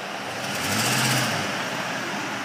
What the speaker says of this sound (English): I'm gonna roll this truck forward for you.